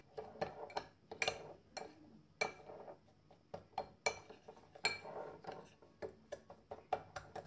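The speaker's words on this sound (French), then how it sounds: "je vais mélanger 2 cuillères à soupe de sucre avec 1 cuillère à café de cannelle" A spoon stirring sugar and cinnamon together in a bowl for an apple cake, giving quick, steady clinks and scrapes against the dish, close by and with no talking.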